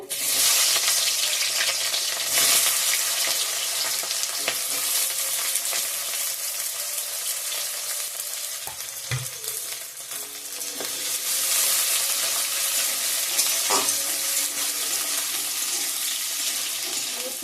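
Onions sizzle loudly in hot oil with two dried chillies, cardamom and whole garam masala, a dense continuous frying hiss with occasional stirring knocks throughout.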